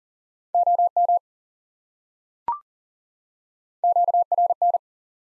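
Morse code tones spelling the word noise, sent as short, evenly pitched beeps in two quick bursts separated by a single faint click, clear and alone without any voice.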